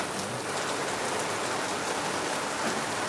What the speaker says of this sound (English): The rain is too much, guys. Can't go out.